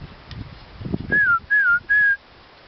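A person out on a plateau whistles toward a herd of wild horses: three short, clear, falling whistles in quick succession over quiet outdoor background noise.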